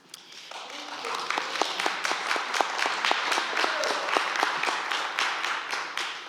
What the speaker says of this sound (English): that's right, it deserves an applause